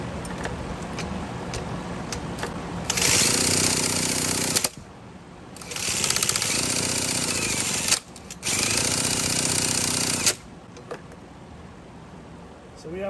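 A Poulan leaf blower engine is cranked during a compression test in three loud, rapid chugging bursts of about two seconds each, separated by quieter pauses with faint background noise.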